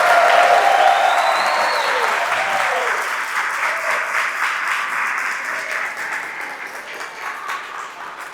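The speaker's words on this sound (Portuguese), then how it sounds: "eu queria uma salva de palmas para o Frei Afonso" A small live audience gives a warm round of applause with a few cheers at first, loud at the start and slowly tapering over several seconds.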